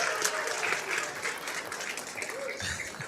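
Audience applause at a world championship pool match, a steady burst of clapping that holds at an even level throughout.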